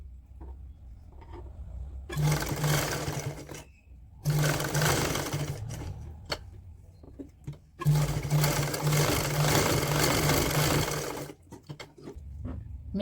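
Sewing machine stitching woolen fabric for a toddler's pajamas, running in three sustained bursts of steady motor whir separated by short quiet pauses with small handling clicks.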